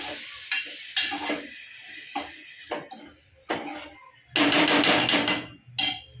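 Tomatoes and buttermilk go into a hot pan of rotlo snack, with sharp sizzling bursts and stirring scrapes in uneven pulses, and one louder sustained sizzle near the end.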